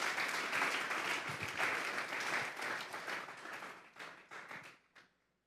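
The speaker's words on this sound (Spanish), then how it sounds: "Denle un fuerte aplauso al Señor esta tarde." A church congregation applauds together, a dense, even burst of clapping that holds steady for several seconds, then thins into a few scattered claps and fades out.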